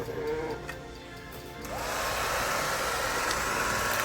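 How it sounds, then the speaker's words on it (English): A heat gun blows hot air over coffee-dyed junk journal pages, switching on after a quiet moment into a steady, loud, even whoosh that holds to the end. "I'm gonna take the heat gun to it"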